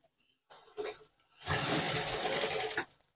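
A sewing machine stitches a zipper onto a fabric bag made from leftover cloth: a short whirring burst, a pause, then a longer steady run of rapid stitching, close and alone.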